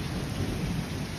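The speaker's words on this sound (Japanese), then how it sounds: "激しく雨が打ちつける音と雷鳴が響き" Heavy rain pounds down in a dense, steady roar while low thunder rumbles beneath it, loud and continuous through a short stretch of a summer storm in Yamagata, Japan.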